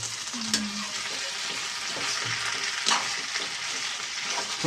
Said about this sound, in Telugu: ఫైనలీ బంగాళదుంప ఫ్రై అయితే అయిపోయిందండి